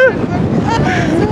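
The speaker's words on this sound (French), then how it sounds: "Il y a du vent. Trop de vent d'ailleurs." Strong wind at Horseshoe Bend buffets the microphone in a loud, continuous rumble, with a brief tonal whistle at the start.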